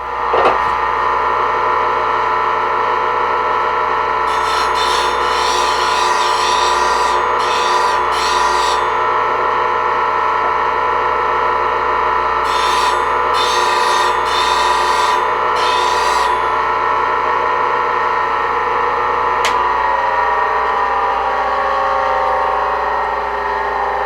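A bench grinder whines with a loud, steady tonal drone while a woodturning skew chisel is sharpened against the wheel, with bursts of bright grinding scrape as the steel edge contacts the stone.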